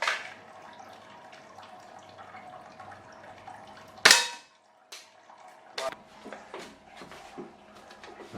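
Airsoft gun fires a single sharp crack at a target, loud and close, followed by a quiet pause and a few softer clicks and taps amid light background noise.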